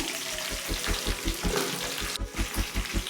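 Sliced onions with green, dried and Guntur chillies fry in a pan with a dense, steady sizzle, punctuated by rhythmic stirring scrapes, fairly close and without talk.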